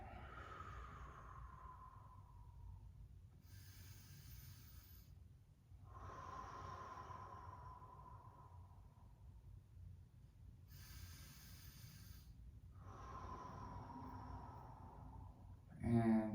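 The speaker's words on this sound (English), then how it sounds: "And now just breathe." Slow deep breaths during a hip mobility stretch, long airy inhales and exhales in a repeating cycle, close and soft with quiet pauses between.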